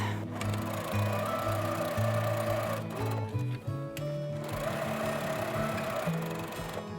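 Sewing machine stitching fabric at a 2.5 mm stitch length on a half-inch seam, a steady close mechanical whir with a brief pause midway before running on again.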